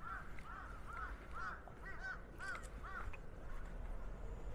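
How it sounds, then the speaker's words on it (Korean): Crows caw repeatedly in a series of harsh calls at Haedong Yonggung Temple in Busan, heard at moderate distance over steady outdoor background noise with no talking. "까마귀도 계속 울고."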